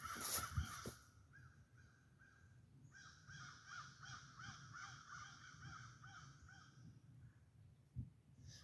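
Crows cawing in an open hardwood forest, with several repeated harsh caws in rhythmic bursts, moderately distant. A brief thump sounds near the start and another near the end, and no one speaks.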